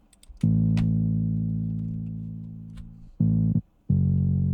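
Deep electric bass notes held long and steady, one sustained tone fading slowly, then a few shorter plucked notes, alone and fairly close.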